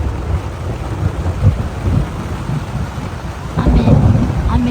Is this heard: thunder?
yes